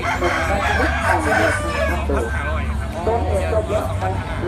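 Roosters and chickens from Taiwan crow and cluck loudly at an agricultural fair at Khon Kaen University, overlapping calls rising over constant crowd babble and nearby talking.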